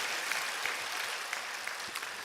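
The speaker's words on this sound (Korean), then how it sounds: "영광의 박수 올려드립니다." A church congregation gives a round of applause after a hymn, a fairly soft, even patter of many hands clapping with a few sharper claps standing out.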